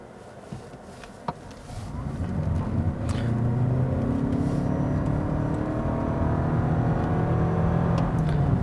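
A 2019 Lexus UX 250h F-Sport hybrid accelerates from inside the cabin, a low whirring drone that builds and holds steadily after a few light clicks at the start.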